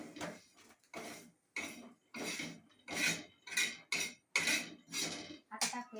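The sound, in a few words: taking roasted coconut out of the pan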